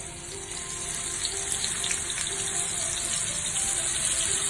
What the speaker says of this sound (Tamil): இப்போ மீன் போட்டு வறுத்து எடுத்து தனியாக வச்சுக்கலாம் ஃபிஷ் கறிக்கு